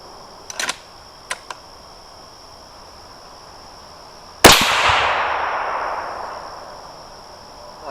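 A .308 rifle firing a 168-grain BTHP match bullet gives one sharp, loud shot that rolls away in a long fading echo, after a few faint clicks.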